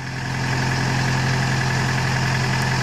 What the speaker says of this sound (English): The LS 47 horse tractor loader backhoe.